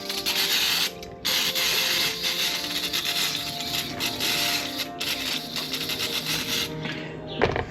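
Electronics cleaner sprays in a steady, loud hiss onto the starter of a Johnson 48 Special outboard motor, running almost continuously with two brief breaks and a small clatter at the end.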